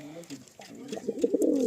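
Pigeons cooing softly in a short burst of throaty, rolling calls at close range, with a voice briefly audible alongside.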